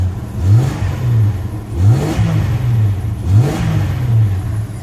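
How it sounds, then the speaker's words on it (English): The engine of a 1996 Jeep Cherokee XJ is revved three times in a row, each blip rising and falling over a steady idle, loud and close. "Do a little rev here."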